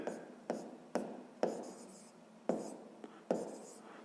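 A pen writes letters on paper in a math exercise, with short scratchy strokes starting roughly every half second, each fading quickly, quiet and close.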